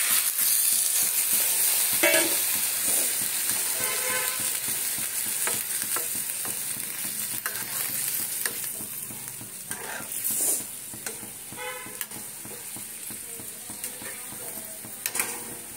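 Potato curry with chilli and ground pepper sizzles and fries steadily in a pan as water is added, with short bursts of louder bubbling and stirring clatter throughout, no talking.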